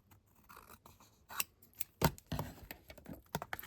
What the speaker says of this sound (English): Cut the edge off, and you are good to go.